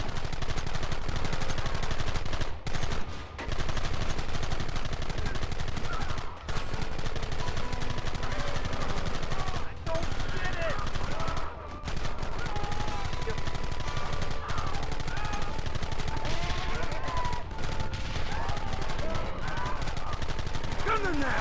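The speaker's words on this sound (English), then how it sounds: "Targets on the horizon. Fire at will!" Sustained gunfire in the Western game Red Dead Redemption: dense, continuous shots and rifle cracks over a constant battle din, loud throughout, with voices shouting in the mix.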